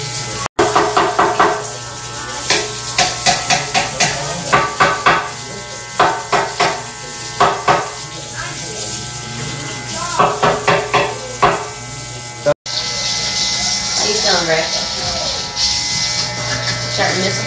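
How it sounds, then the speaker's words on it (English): Electric hair clippers buzz steadily while cutting a man's hair, close and continuous, with a low hum throughout and repeated short sharp bursts as the blades pass; people talk over it. "You see how you pick the clipper up? Just go all the way through."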